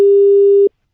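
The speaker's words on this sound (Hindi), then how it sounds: "सिग्नल में कोई प्रॉब्लम आ रहा है, फोन कट गया था।" A telephone busy tone after a call cuts off, heard as one loud, steady electronic beep lasting most of a second and then stopping abruptly into silence.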